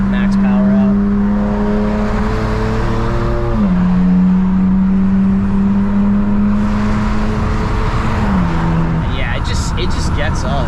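A 2010 BMW E90 328xi revs up hard in third gear after a downshift, its engine note climbing steadily under a driver's talk, then dipping briefly as it shifts before pulling again, loud and close from inside the cabin.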